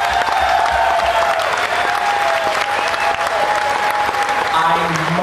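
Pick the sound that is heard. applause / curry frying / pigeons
applause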